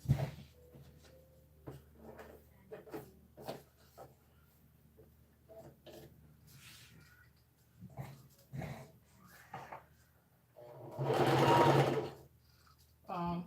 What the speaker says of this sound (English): So I'm going to do loose stitching.